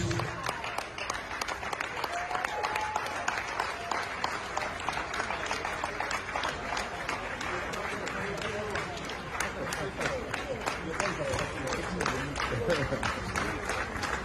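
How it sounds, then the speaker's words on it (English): Sustained applause from a large crowd at an award ceremony for actor Olu Jacobs fills the whole stretch, steady and fairly loud, with voices mixed into the clapping. "Let's give that applause, Lily."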